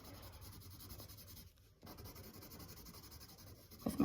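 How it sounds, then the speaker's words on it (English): Colored pencil rubbing across paper while filling in circles for a Kandinsky-style drawing, a steady close-up scratchy scribble with a short pause partway through. "covering up the pencil line and then going back, filling it in nicely"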